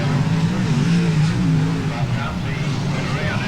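Sprint car engines roar continuously at a speedway race at the Canberra Powerdome during the 1989 Australian Sprintcar Title heats, a steady loud drone with shifting pitch as cars circle, under a commentator's voice.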